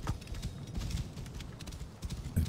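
Horse hooves clip-clop at a steady riding rhythm while a player rides back across the Egyptian setting of Assassin's Creed Origins, moderately loud and continuous with no speech.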